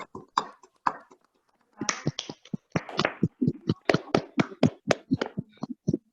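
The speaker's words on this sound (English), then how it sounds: "give a thundering applause whoever participate today to break the ice" Online meeting participants unmute to clap during an ice-breaker session, giving scattered, sparse hand claps that begin hesitantly, pause, then pick up into a looser run of distinct individual claps.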